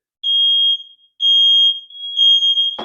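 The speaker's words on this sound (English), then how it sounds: "we can hear other ones go off throughout the house" Interconnected household smoke detectors blare a piercing electronic tone in three long bursts, loud and close, with a brief gap between each and a short thump at the end.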